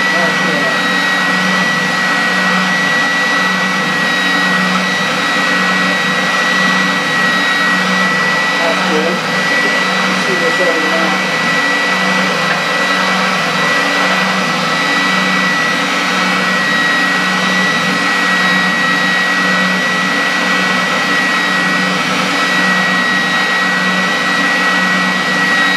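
A workshop spindle sander with a 3/4 inch spindle and worn sandpaper runs steadily at full speed, giving a loud, constant whine and motor drone that carries on unchanged throughout.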